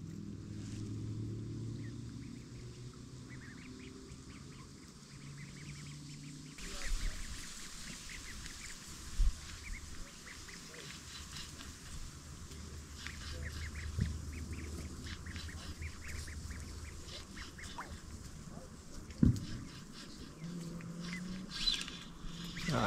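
Ducks quack intermittently in the background over a low outdoor rumble and water noise while fishing, with a few louder bumps and knocks nearby.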